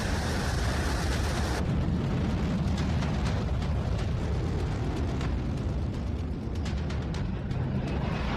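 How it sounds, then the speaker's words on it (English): A North Korean ballistic missile launch roars as a loud, continuous rumbling blast that carries on steadily for several seconds, with no voices present. "North Korea resumed its ballistic missile tests."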